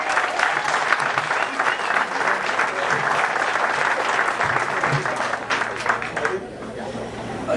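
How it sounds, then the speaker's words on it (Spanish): Loud, sustained applause from an audience, steady clapping throughout that eases slightly near the end. "Alcazareto, un aplauso para él."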